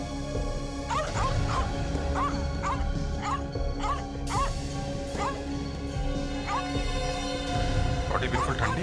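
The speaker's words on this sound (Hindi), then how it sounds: "कुत्ता परेशान है।" A dog locked inside a house barks in rapid high yips and whimpers, a steady run of distressed calls heard from nearby behind walls, with faint voices underneath.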